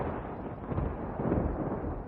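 A deep, rumbling thunder sound effect from a Vivitar sound mixer kit, like a distant blast, sustained and heavy with low-frequency weight, swelling slightly in the middle.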